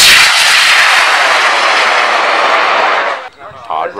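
Two high-power model rockets launching side by side in a drag race at a rocketry event, a loud roaring rush of motor exhaust that fades after about three seconds.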